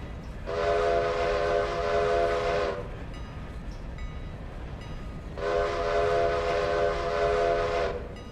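A locomotive whistle sounds as a train approaches a station, two long, loud chord-like blasts separated by a short gap, over the low rumble of the moving train, with no talking.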